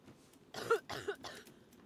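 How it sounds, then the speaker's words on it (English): A few coughs from a man outdoors on a hunting trip, about three short harsh bursts close to the listener, with quiet pauses between them. "I hear someone coughing."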